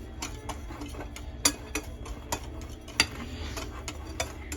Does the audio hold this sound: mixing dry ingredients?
yes